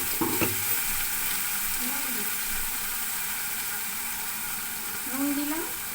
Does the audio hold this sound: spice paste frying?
yes